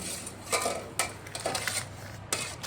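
A bowl and utensils clink and scrape while Multani clay paste is mixed, with several sharp knocks spaced irregularly over a soft background hiss. No one speaks.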